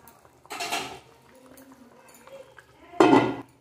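A metal lid is set on a pot of fish curry with two distinct clattering clinks, the second louder, separated by quiet simmering.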